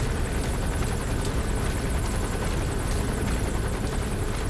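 An enemy gunship helicopter in Metal Gear Solid 5 churns loud and continuous, its dense rotor roar holding steady without a break.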